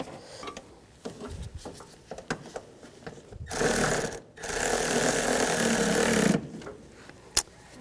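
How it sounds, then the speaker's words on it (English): A ratchet snugs down bolts on the blower motor of a Ford E-250 van, first as scattered clicks, then as two long rapid bursts of ratcheting close up, ending with a single sharp click. "Now tighten these all down."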